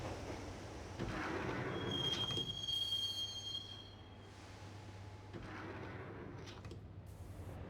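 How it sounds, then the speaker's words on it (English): Subway train ride in the video game Max Payne: a low rumbling carriage with a high metallic squeal of wheels partway through, then a quieter rolling drone, no talk. "the train doors had already shut behind me, and I was in for the ride"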